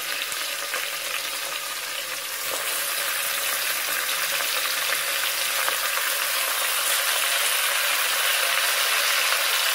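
Chicken added to a pan of sautéed onions for a home-style chicken curry fries with a steady, dense sizzle throughout, close and fairly loud, with faint scraping and clicking of a utensil and no talking.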